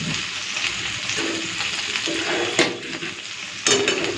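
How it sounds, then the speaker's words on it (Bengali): Okra sizzles in a pan with salt and turmeric, a steady close crackle of frying with occasional stirring scrapes and light clinks of a utensil against the pan. "আগে ঢেঁড়সটা হাফ ভেজে নেবো"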